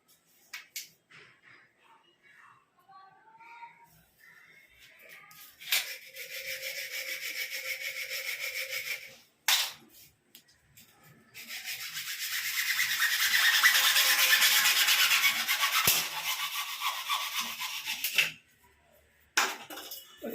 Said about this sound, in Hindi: हम लोग पहले फ्लाश पाइप का मेजरमेंट लेते हैं और जो यहाँ दिया हुआ है उसको हम लोग कटिंग भी करना